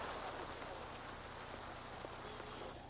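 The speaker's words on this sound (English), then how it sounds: "Now we got rain in November." Steady November rain falls continuously, a dense even patter on surfaces with a low hum beneath, moderately loud and unbroken with no talk.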